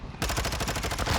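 Rapid automatic gunfire from the Vaznev 9K in Modern Warfare II, a steady stream of fast, even shots at close range with no pause.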